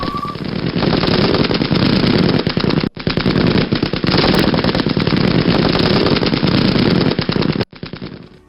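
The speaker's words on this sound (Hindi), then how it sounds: "रूसी सेना पर लगातार फायरिंग हुई।" Continuous automatic gunfire fills war footage from the Russia–Ukraine conflict around Kharkiv. Loud, rapid bursts rattle almost without pause, broken by two brief gaps, and there is no talk.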